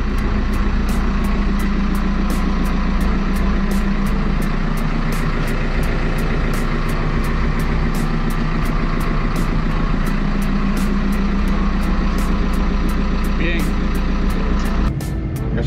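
Heavy machinery engine from an excavator being repositioned on a farm, a steady loud diesel drone running throughout with faint rhythmic clicking, close to the listener, no talk.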